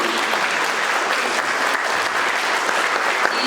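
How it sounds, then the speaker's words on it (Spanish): A cultural-centre audience gives loud, sustained applause for two artists after a talk with a writer, dense clapping from many hands that holds evenly throughout with no pauses. "un fuerte aplauso para nuestros 2 artistas"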